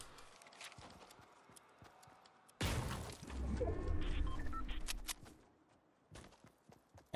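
A Fortnite character runs in quick, light footfalls, a steady patter of soft close steps that is briefly swamped by a louder burst of crashing game noise before the steps resume.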